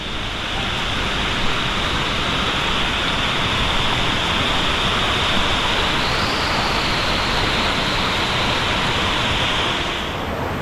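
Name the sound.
waterfall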